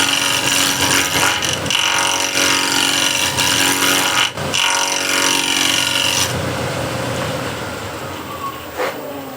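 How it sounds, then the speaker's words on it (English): A woodturning gouge shear scraping a spinning piece on a lathe, a steady close rasping hiss with strong machine hum beneath, broken by a brief dip midway and easing softer toward the end. "So I'm closing the gouge as I'm shear scraping"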